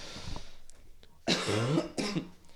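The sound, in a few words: cough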